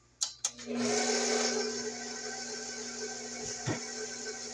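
An electric mixer on its lowest speed beating pound cake batter gives a steady, close, continuous whir that starts after two quick bumps and runs on without pause.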